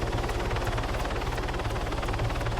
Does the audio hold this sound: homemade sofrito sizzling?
no